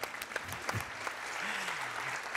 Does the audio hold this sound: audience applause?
yes